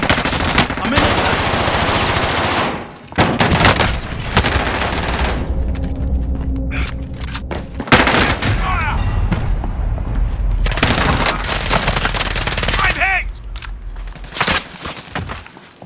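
Rapid machine gun fire in Call of Duty Warzone crackles in long, loud sustained bursts, broken by brief pauses and scattered single shots, with explosive booms mixed into the firefight.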